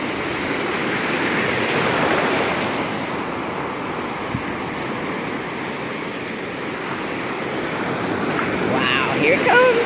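Ocean surf rolls continuously onto a sandy beach, loud and close, swelling and easing as the waves surge in. A brief high bird-like call comes near the end.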